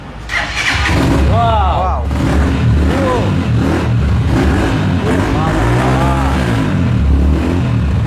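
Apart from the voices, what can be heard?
Rusi XL v7 bike engine starting and revving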